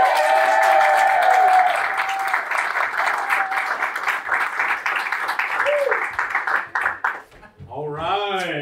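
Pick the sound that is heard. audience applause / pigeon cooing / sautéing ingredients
audience applause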